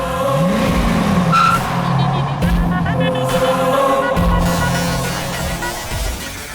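A car speeds hard with tires skidding and squealing, its engine rising in pitch at the start. The sound is loud and close, over a dense, continuous background.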